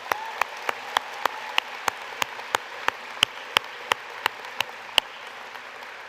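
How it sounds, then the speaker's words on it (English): Sparse, slow claps ring out one at a time in a steady rhythm at a high school graduation ceremony, each crisp and distinct over a quiet room tone. "Can we please give Theo another great round of applause?"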